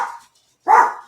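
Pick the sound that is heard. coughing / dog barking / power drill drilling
dog barking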